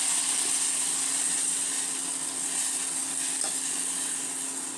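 Fenugreek chutney with soaked tamarind frying in a pan, a steady low sizzle running evenly throughout with faint occasional scrapes and no voices.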